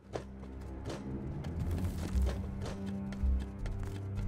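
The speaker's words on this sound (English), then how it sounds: "Oh, someone's here with the horse." Horse hooves in the video game Rust, a run of rhythmic clip-clop hoofbeats growing louder as the horse approaches, fairly close and continuous across the whole stretch.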